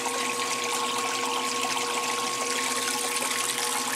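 A 1996 Maytag Dependable Care Plus washing machine on a delicate cycle pumps out water as it starts to spin, a loud, steady rushing and gurgling hum with a constant motor tone.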